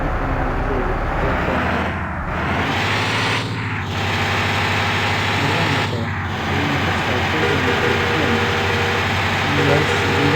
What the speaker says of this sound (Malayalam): വണ്ടിക്ക് സ്റ്റാർട്ടാക്കി